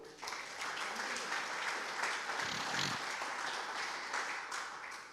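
A church congregation applauds during a sermon, with steady, dense clapping that holds for about five seconds and fades slightly at the end, with no talking over it.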